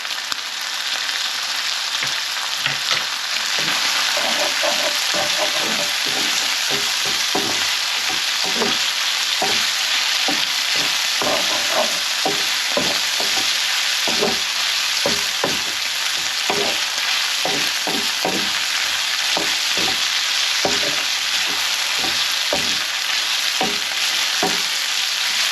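Mace-seasoned Darlington savoury crisps up in a hot pan with a loud, close, unbroken sizzle dotted with crackles and popping spits throughout, no voices.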